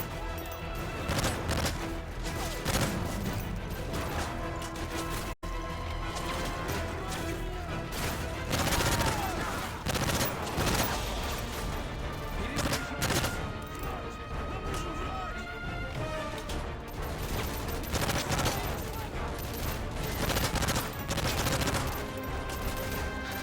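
Dense gunfire and crashing impacts from the Call of Duty MW3 campaign, a steady loud barrage of shots and smashes with no letup, mixed with busy game sound throughout.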